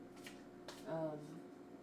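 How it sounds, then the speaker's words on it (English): A deck of cards is shuffled in a few quick riffling bursts, close and soft, with a voice speaking alongside. "I'm gonna keep shuffling because it just didn't feel right"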